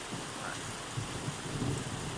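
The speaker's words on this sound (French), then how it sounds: "Il y a de l'orage dehors" A thunderstorm outside is heard from indoors as faint, steady rain hiss with soft, low rumbling swells of distant thunder. It is quiet and continuous, with no voices.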